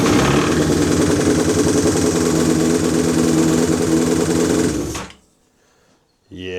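Honda CBR1000RR Fireblade engine idling with a noisy cam chain, a loud, steady mechanical rattle and whir close by that cuts off abruptly after about five seconds, followed by a brief silence and a voice.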